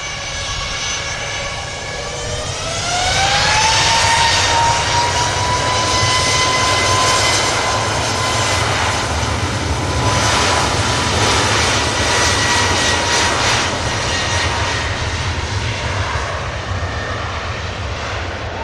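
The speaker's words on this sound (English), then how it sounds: "And the Ryanair about to spool up." A Ryanair jet airliner bound for Porto spools up its engines on the runway, a rising whine settling into a sustained loud roar that holds steady and rumbles on without talk.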